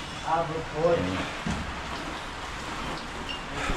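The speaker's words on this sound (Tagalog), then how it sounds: "Ulan." Steady rain falling at a construction site at a garden villa in Tanza, a soft continuous patter under brief voices talking nearby.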